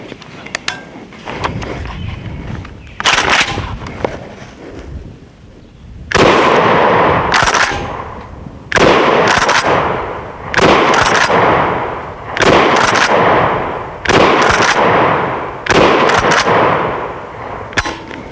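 KSG410 pump shotgun loaded with 3-inch Magnum 7.5 shot shells fires about nine loud booming shots outdoors at a range, a few softer pops first, then heavy blasts spaced a second or two apart, each trailing off in echo.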